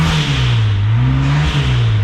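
A 2.0L turbo Fiero engine holds a steady, loud idle-to-rev drone with slight pitch rises, close up and continuous with no talking.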